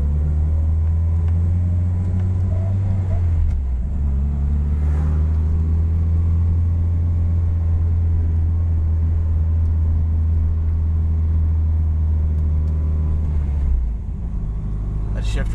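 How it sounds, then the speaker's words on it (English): A turbocharged Mitsubishi Lancer Evolution engine accelerating from a stop hums low and steady, its pitch stepping down after a gear shift at around 2,000 rpm, with a loud continuous rumble close up. "Barely have to hit the gas to take off."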